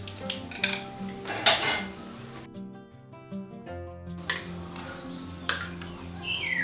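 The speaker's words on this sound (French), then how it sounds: "Je vais maintenant rajouter de la mayonnaise." A spoon scooping mayonnaise and tapping against a bowl while preparing grilled fish, a series of close metallic clinks and scrapes with brief quiet pauses between.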